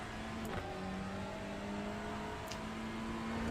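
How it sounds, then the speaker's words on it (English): A Ford Mustang GT4 race car engine in an iRacing endurance race at the Nürburgring drones steadily and loudly, holding a sustained tone that shifts pitch slightly through gear changes, with no talk over it. "you always know when them Mustangs coming up on you, John."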